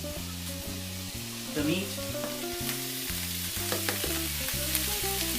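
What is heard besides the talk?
mushrooms and cooked meat tossed into frying pan, sizzling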